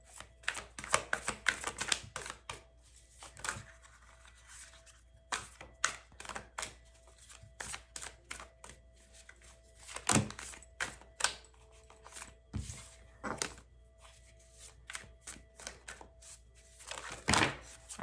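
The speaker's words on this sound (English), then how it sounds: "I love this deck, but I will tell you, it is really hard to shuffle." Quiet, irregular clicks, taps and soft thumps from a hard-to-shuffle tarot deck being handled and shuffled close by, with occasional louder slaps and no talking.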